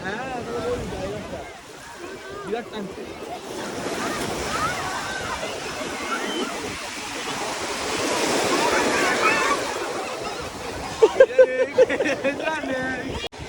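Ocean surf at Chennai Marina Beach, a broad rushing wash of breaking waves swelling and fading, with wind buffeting the microphone and people talking and calling out nearby.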